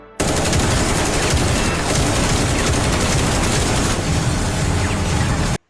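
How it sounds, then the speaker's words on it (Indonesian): Soldiers in the anime Night Head 2041 unleash loud, relentless automatic gunfire, a dense continuous barrage of rapid shots and booms lasting several seconds before cutting off. "Takuya dan lainnya pun menembaki Naoto."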